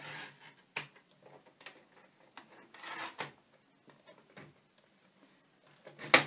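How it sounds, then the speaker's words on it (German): A blade slices through cardstock, trimming a one-centimetre strip. Short, dry scraping strokes and light ticks come close up and scattered, with quiet pauses between them and a sharper final scrape. "Und schneiden dann 1 cm ab."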